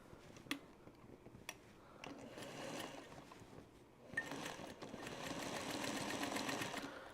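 A sewing machine stitches binding onto a Trellis Garden quilt in quiet bursts, with a few clicks and ticks, then a steady whirring run of rapid stitches.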